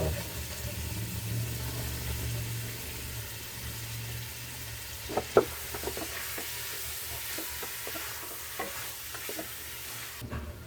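Beef meat with some skin is added and stirred in a pot for beef pares. A low sizzle runs underneath, and a few sharp utensil clicks and scrapes follow midway.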